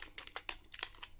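HTML and CSS code is typed on a computer keyboard in a quick, close run of about ten soft key clicks in just over a second, with no voices.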